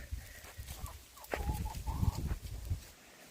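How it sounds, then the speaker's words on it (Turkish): A rooster clucks and calls outdoors in a village, fairly distant and faint, with a few short bursts amid low rustling background noise. "Yine çok horoz var bizde"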